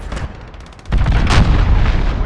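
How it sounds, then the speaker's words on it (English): A cruise missile strike in the video game Call of Duty: Modern Warfare: a faint rumble, then a sudden heavy blast about a second in, followed by a loud, rolling roar of debris that fills the rest. "Enemy cruise missile incoming."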